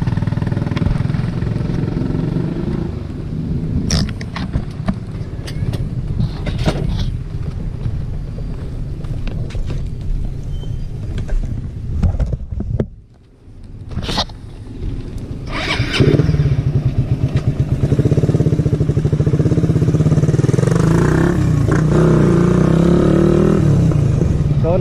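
Motorcycle ride through town toward a pier where a boat is moored, with a steady engine drone and heavy wind rush throughout, a brief dip in the middle, then the engine resuming strongly.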